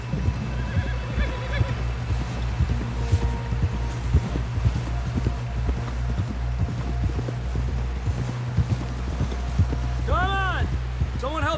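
Rhythmic clip-clop of horse hooves trotting steadily in Red Dead Redemption 2, with a horse whinnying near the end and voices talking over it.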